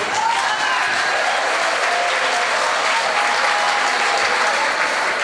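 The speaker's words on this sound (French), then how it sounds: "Acclamez pour le Cameroun." An audience applauding and cheering for Cameroon at a church gathering: steady, dense clapping from many hands that fills the whole stretch evenly, with a faint voice or two rising over the applause.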